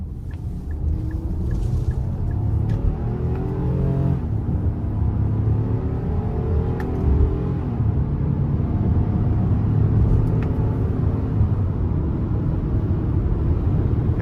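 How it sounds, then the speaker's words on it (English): Exhaust note of a 2023 Nissan Pathfinder Platinum V6 while driving, a steady, close engine drone with rising and falling harmonic tones as it accelerates and shifts, heard alone over road rumble. "And I actually like the exhaust note."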